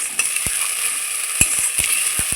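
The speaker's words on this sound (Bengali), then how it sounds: "মশলাটা দিয়ে আবারও খুব সুন্দর করে কষিয়ে নেব যতক্ষণ না মশলা থেকে তেল বাড়াচ্ছে" Ground masala paste crackles in hot oil in a pan, a bright steady sizzle broken by several sharp spoon knocks and scrapes against the pan.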